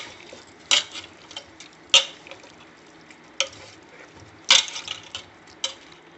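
Chicken pieces for dum biryani are mixed with chicken masala, turmeric and other spices in a bowl, with soft, intermittent clinks and scrapes of a spoon against the vessel at close range.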